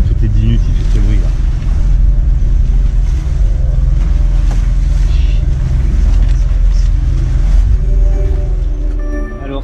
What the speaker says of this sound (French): Ah, le moteur, là, toutes les 10 minutes, il fait ce bruit là.